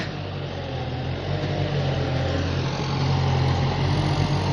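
A walking tractor plowing a wet rice paddy gives off a steady, droning engine hum with a low rumbling throb. The sound is continuous and fairly close, with no voices.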